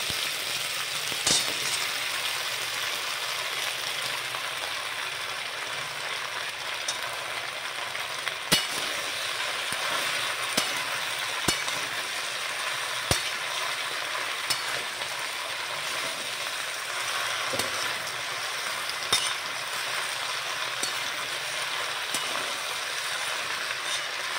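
Malabar spinach and taro sauté in a pan with five-spice seeds, green and dry chilies, and garlic. A steady, faint hiss runs throughout, broken by scattered sharp clicks of a utensil striking the pan, with no one speaking.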